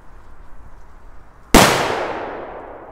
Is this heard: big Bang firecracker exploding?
yes